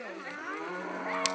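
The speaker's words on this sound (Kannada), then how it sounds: "ಹಸುನ." A cow moos in a short, steady call at close range during a Sankranti festival visit, the harmonic lowing filling the moment with no talk over it.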